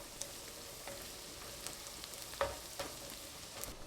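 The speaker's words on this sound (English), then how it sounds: "Add all of my minced garlic. And I'm just gonna stir that around." Minced garlic sizzles faintly in a pan while a utensil stirs it, giving a soft steady hiss with a few light clicks, quiet and close with no voices.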